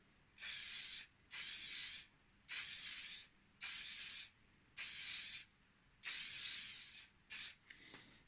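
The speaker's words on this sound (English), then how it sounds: "Bring back in the hairspray and just spray it all again." Seven short bursts of hairspray hiss onto model seafoam trees in a steady rhythm, each lasting about a second with brief pauses between, the last ones quicker.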